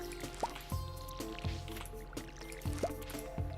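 Watering crops with a watering can in Stardew Valley, with several short splashy pours and drips repeating under steady game music, each burst brief and fairly faint.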